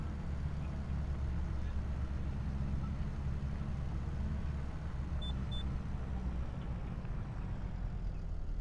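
A tractor engine in Farming Simulator 25 runs with a constant low, heavy rumble, close and steady with no clear rise or fall, and no talk over it.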